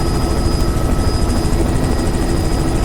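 Loud, steady whirring thump of a helicopter flying low over a calm coastline, continuous rotor chop close by with no talk.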